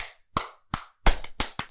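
Hand clapping comes in a loose, uneven series of about six sharp claps, close and fairly quiet, with short gaps between them and no talking.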